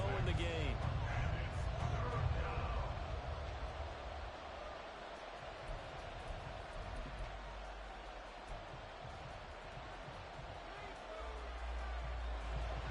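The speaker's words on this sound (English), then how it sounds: "This crowd turning up the decibel level." Stadium crowd roar in a Madden NFL football video game during a late third-and-long Cowboys game, a steady loud wash of crowd noise with swells throughout.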